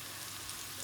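Mustard seeds and garlic frying in a pan for a homemade bird's-eye chilli and garlic pickle, a faint, steady, even sizzle with no talking.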